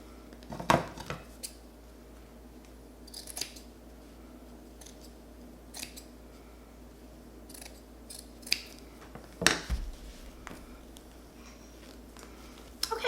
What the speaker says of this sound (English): So I'm gonna go ahead and cut that fur.